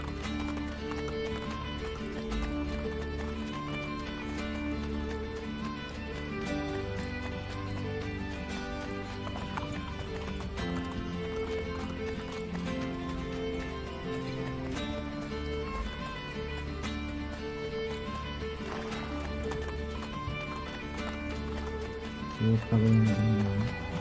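A horse gallops in Assassin's Creed Brotherhood with a steady, rapid run of hoofbeats under game music and effects, close and fairly loud throughout.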